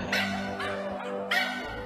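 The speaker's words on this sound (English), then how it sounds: "Oh, this is the wrong dog." Dog barking in a meme clip, three loud close barks spaced evenly over a couple of seconds with a steady background hum.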